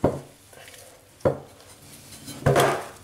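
Brioche dough being mixed in a bowl, with a few distinct knocks and scrapes of the utensil against the bowl at irregular intervals and softer dull handling sounds between them, close by, without speech.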